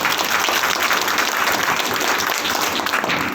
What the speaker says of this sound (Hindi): घर से एक बार जोरदार ताली।